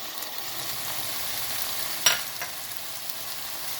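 Vegetables for chicken macaroni being stirred in a hot pan, a soft steady sizzle with one sharp scrape of the spoon midway and a fainter one just after.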